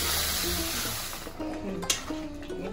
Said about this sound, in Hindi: अच्छे से फ्राई करना है, अभी टाइम लगेगा